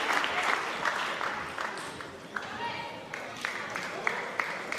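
A crowd at a European top-level table tennis match applauds a point with sustained, dense clapping that stays steady throughout, while a commentator talks over it.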